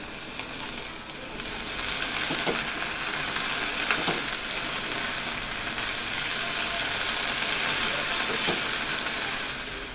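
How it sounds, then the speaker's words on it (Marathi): Drumstick (moringa) leaves cook and are tossed in a hot pan, giving a broad steady sizzle with occasional scraping knocks from stirring, fairly loud and close. "आता हा पाला आपण चांगला शिजवून घेऊया। आता आपण जरा परतूया।"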